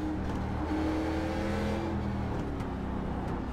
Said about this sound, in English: Just drifting around the chicane, don't mind me.